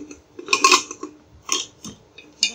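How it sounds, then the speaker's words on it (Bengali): A metal pressure cooker lid is set onto the pot, which holds a bowl of caramel egg pudding and sits on a gas stove. A few sharp, close metallic clinks and scrapes come in quick succession, with no talking. "এখন দিয়ে দিব প্রেশার কুকারে মুখটা ঢেকে।"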